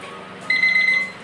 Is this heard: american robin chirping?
no